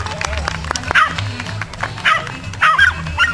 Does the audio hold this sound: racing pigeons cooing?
no